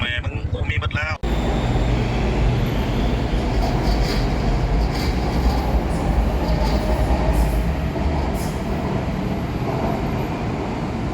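A brief voice at the start gives way to a loud, steady rumble and roar of a BTS Skytrain running through an elevated Green Line station in Thailand, with faint high squeals above.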